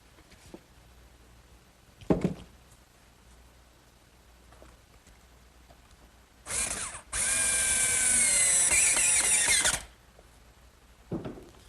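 A power drill bores blind screw pockets through a pocket-hole guide in wood for a bookcase, a short burst then a loud sustained whine of about three seconds, with a few scattered knocks and clicks before and after.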